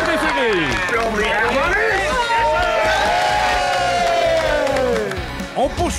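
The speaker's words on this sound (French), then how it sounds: "On donne une bonne main d'applaudissements pour nos plombiers préférés" An audience at a fishing-competition finale on Lac-Saint-Jean cheers and shouts loudly and continuously, a dense crowd roar with excited voices rising over it.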